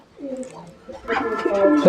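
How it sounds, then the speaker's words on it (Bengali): A fancy pigeon on a farm in Muktagacha, Mymensingh, gives a short, close coo, and a voice then talks over it. "দেখেন আরো সুন্দর একটি কবুতর"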